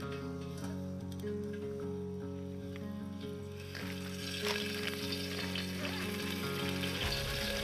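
Oil sizzles in a pan over a campfire in the woods, a steady crackling hiss that grows louder partway through, with a constant low tonal hum underneath and no talking.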